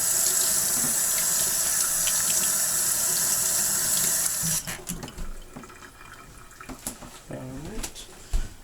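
Gas mask parts washed in a tub of water: a loud, steady rush of running tap water fills the first half, then gives way to quieter swishing, sloshing and dripping of the parts being moved around.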